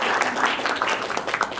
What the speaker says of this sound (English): Can we have a clap for that?